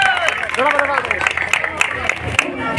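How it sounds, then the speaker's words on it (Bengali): An audience claps at a Saraswati Puja prize-giving ceremony, steady crowd applause running beneath a voice speaking over a loudspeaker. "এবার জোরে হাততালি।"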